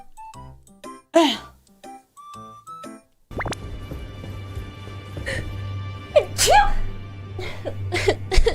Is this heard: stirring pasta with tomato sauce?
no